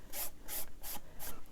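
A foam sponge dabs gesso paint onto an MDF box in four quick, evenly spaced soft rubbing strokes, close and quiet.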